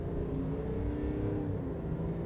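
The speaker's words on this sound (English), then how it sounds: "This time I'll load up the throttle a little bit." A 2020 GMC Sierra Duramax diesel pickup in two-wheel drive accelerating hard at full throttle, a loud steady engine drone heard from inside the cab.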